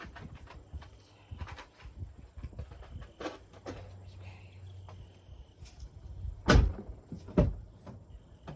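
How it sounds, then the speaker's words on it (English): A door is shut in a mechanic's garage with a sharp thud, followed by a second duller bang, amid scattered shuffling noises and bits of nearby talk. "We'll close the door."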